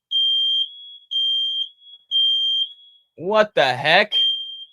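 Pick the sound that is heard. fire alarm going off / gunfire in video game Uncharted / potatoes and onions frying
fire alarm going off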